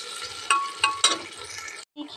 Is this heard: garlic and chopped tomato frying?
yes